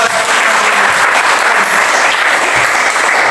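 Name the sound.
class applause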